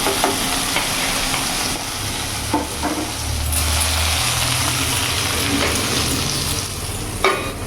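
Steady loud sizzling of okra frying in a pan, with occasional scraping stirs over a constant hiss.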